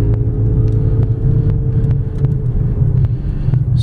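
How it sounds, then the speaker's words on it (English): A 2009 Toyota RAV4 AWD SUV with a 3.5 liter V6, heard from inside the cabin during a test drive, gives a loud, steady engine rumble and drone under acceleration with faint clicks over it. "V6 engine is very peppy and very powerful"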